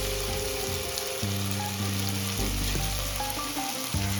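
Spices for a Bengali-style lalantika fish curry fry hard in oil in a pan. A loud continuous sizzle runs throughout, with low clunking stir strokes at irregular intervals and no voices.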